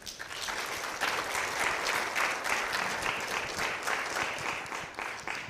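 A convocation audience gives sustained, even applause, with many hands clapping close together for several seconds.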